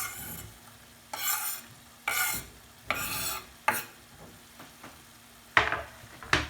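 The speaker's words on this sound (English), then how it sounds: "Go ahead and stir it up." Garlic and diced onions sizzle in a hot pan, with a constant frying hiss broken by repeated scraping strokes of a spoon stirring them, several sharp clatters, close and without speech.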